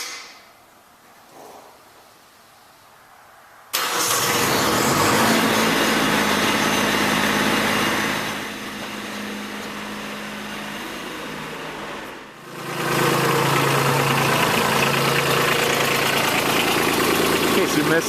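An engine fires up from cold after a quiet stretch and settles into a loud, close, steady idle, dipping briefly around the middle before resuming at full strength.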